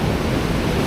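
Ocean surf washing in at the shore while surf perch fishing, a steady loud broadband rush of water with no clear breaks, wind adding to the noise close to the microphone.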